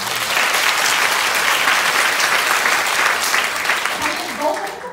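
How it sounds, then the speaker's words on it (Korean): An audience at a business opportunity presentation at company headquarters claps loudly and continuously, a dense, sustained round of applause that tapers slightly near the end, with a voice faintly beneath it. "박수 한번 주세요"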